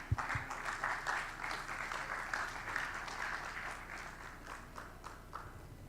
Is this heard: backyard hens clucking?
no